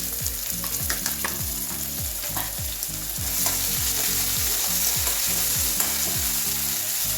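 Ginger and chili sizzle loudly in hot oil with whole spices such as cinnamon, in a frying pan for a green turmeric vegetable curry; a steady broadband hiss with repeated low scraping stirs, growing slightly louder midway, no talk.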